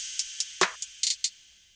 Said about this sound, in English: I layered the clap with the snare right here